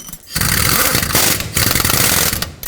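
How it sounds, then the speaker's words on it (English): A bolt on the exhaust manifold bracket of a 2005-2010 Pontiac G6 is tightened with a rapid mechanical rattling in three loud, close bursts separated by short pauses. "Now we have to tighten up this bolt right here for the bracket."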